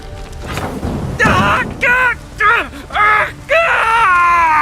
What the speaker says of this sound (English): My ears wither from the screams.